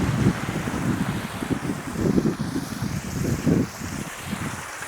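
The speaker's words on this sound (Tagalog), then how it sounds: "Lakas ng tubig ah." Strong water flowing into an earth fish pond, a continuous rushing, churning wash with pulsing low surges, fairly loud and close, with no one talking.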